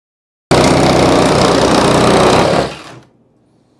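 A power drill cuts through material for a homemade hovercraft, running at a loud, steady high-pitched whine for about two seconds before spinning down and stopping.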